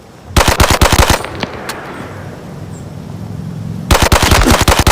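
Video game automatic gunfire in a combat operation, two bursts of rapid, loud shots separated by a quieter stretch of ambient background noise.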